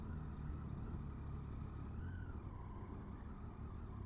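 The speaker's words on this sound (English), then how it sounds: "You can hear the engine noise over the exhaust" A Triumph Tiger 800 ABS motorcycle engine runs steadily on a test ride, a continuous mechanical hum and drone with wind and road rumble, faint and unbroken throughout.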